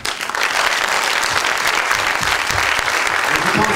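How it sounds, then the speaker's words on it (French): Audience applause at a press conference, a steady dense clapping that fills the whole stretch, loud and close, with no speech over it. "Je pense que vous pouvez nous applaudir."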